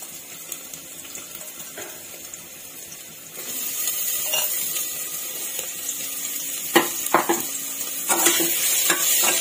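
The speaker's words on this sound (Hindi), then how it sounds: "अब हम इसमें डालेंगे प्याज।" Chopped onions dropped into hot oil with garlic in a pan for jackfruit do pyaza, a steady sizzle that swells louder partway through, with sharp clinks of stirring near the end; no talking.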